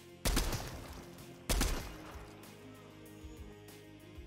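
Two sharp, loud bursts of gunfire about a second apart, each with a brief ringing tail, as icicles are shot in the Fortnite video game.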